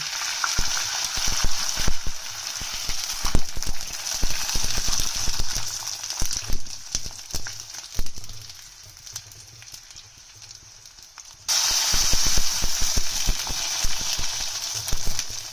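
Sindhi sago papads frying in hot oil in a kadhai give a loud, dense crackling sizzle with stirring clatter; the sound dips quieter for a few seconds, then returns at full strength.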